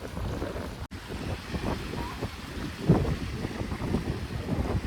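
Wind gusts across the microphone at the Station Ghanpur dam reservoir, a steady low buffeting rush that swells now and then and keeps going, with no voices.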